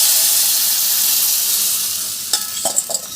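Tamarind water mixed with chilli powder hits a hot frying pan while cooking bitter gourd kulambu, giving a loud steady sizzle that eases slightly and ends in a few light knocks.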